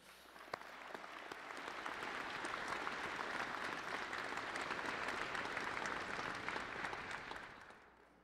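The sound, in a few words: graduates applauding parents, friends and family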